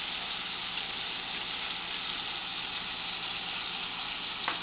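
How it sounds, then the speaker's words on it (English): Onions frying in a pan with added salt while making a mushroom and pea curry, giving a constant soft sizzle at an even level with a faint tap near the end. "to make onions cook faster, we'll add some salt"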